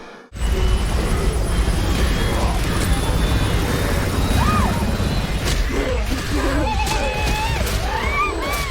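A helicopter flies in the film Planet Terror, giving a loud, steady rotor and engine roar that fills the whole passage amid layered action-movie effects and crashes, without a break.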